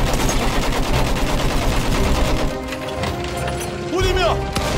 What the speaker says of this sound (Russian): Пулемет! Вражеский!